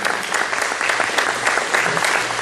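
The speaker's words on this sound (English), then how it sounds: "Let's give them a round of applause for making it through the primaries." Steady, dense applause from a political party audience in South Carolina, cheering candidates who made it through the primaries; continuous crowd clapping at even loudness throughout.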